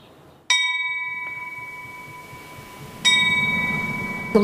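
A nun strikes a bell in the back courtyard of a convent in Berlin-Charlottenburg. Two clear, ringing strokes, close and loud, each leaves a long sustained hum, with no voices.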